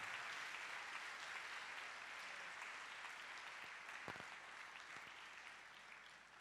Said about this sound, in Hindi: जोरदार तालियां यीशु नासरी के लिए